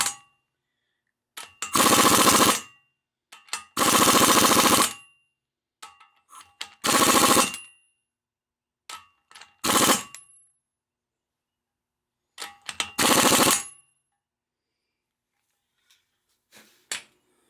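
Impact wrench driving on axle trumpet bolts of a Ford 4000 row-crop tractor, several loud rattling bursts of about a second each separated by silent gaps, with light clanks between.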